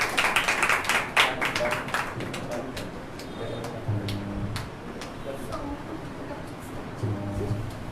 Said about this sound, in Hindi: हम जोरदार तालियों के साथ में परमेश्वर दास का स्वागत करेंगे।